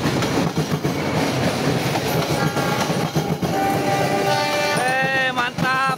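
Two passenger trains, the Tawang Jaya and the Papandayan, rumble past together, loud and close with continuous wheel and carriage noise, and sustained horn blasts ring out toward the end.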